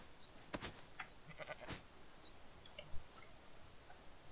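Sheep in the survival video game Rising World let out several quiet bleats, some short and some drawn out, spread across the moment over a soft background.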